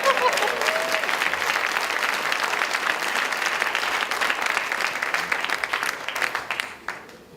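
An audience at a live talk breaks into loud, sustained applause that holds steady for several seconds before thinning out and fading to a few scattered claps.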